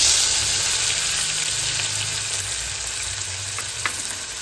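Spices sizzling steadily in hot oil in a pan for spicy dhaba-style misal, a dense close crackle with a few sharper pops and no voices.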